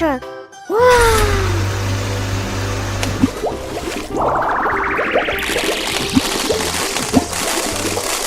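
A toy dump truck sounds off with a revving engine effect and a rising synthetic sweep over looping toy music, with brief clicks throughout.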